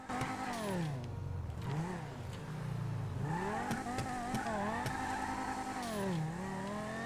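Banshee sports car engine in GTA Online revving repeatedly, pitch climbing and falling through gear changes, with a prominent turbo whoosh and steady moderate level throughout.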